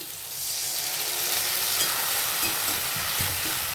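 Pointed gourd fries in a pan with a steady, loud sizzle as ground poppy seed and red chilli paste is added, with a few soft stirring knocks near the end and no talk.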